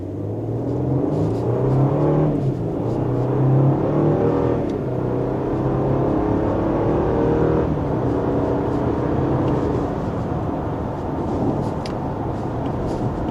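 A 2026 Nissan Armada SL, a boxy body-on-frame SUV with a twin-turbo V6, cruises on a highway with a steady, close engine-and-road drone and gentle swells in revs throughout, no voices.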